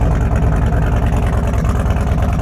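A custom Indian Sport Chief motorcycle engine running close by, with a loud, steady, low throbbing rumble at idle.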